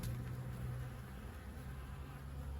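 Buckfast honey bees drone steadily at an open hive during a colony inspection, a close, continuous buzzing hum that holds without a break.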